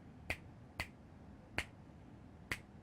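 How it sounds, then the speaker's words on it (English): Four sharp, close finger snaps ring out at uneven intervals near a Kinect for Windows sensor, each a crisp isolated click over a quiet background. "If I snap over there, snap my fingers over the right, you saw that directional change."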